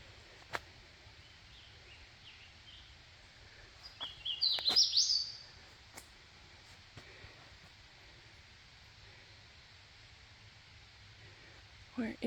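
Outdoors at Table Rock after a fire, birds give a short cluster of chirps and calls a few seconds in, fairly near, then fall quiet amid light rustling and scattered ticks, with another brief sound at the very end.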